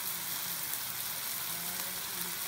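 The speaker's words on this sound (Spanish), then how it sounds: "Saltea los vegetales." Vegetables sautéing in a frying pan for Costa Rican gallo pinto, a steady, close hiss of sizzling oil with no talking.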